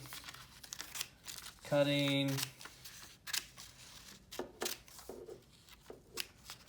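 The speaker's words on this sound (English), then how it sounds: "we're going to go ahead and cut this piece of paper off" Scissors cut through a sheet of paper in a brief crisp snipping and crinkling burst, with paper rustling and handling noises around it as a person talks.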